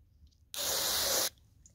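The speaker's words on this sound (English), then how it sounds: "Maybe spray this off a little bit." One short burst of cleaner sprayed onto Stihl blower muffler parts, a crisp hiss lasting under a second against a quiet background.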